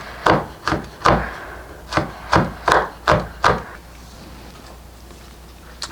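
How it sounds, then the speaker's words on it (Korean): A knife mincing two red chili peppers on a wooden cutting board: eight crisp, evenly spaced chops land close up in a steady rhythm, then stop, leaving a quiet room. "홍고추를 다져 주시면 됩니다"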